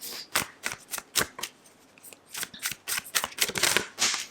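Moonchild Tarot cards are shuffled up close in a series of quick, crisp riffling bursts with short pauses between them.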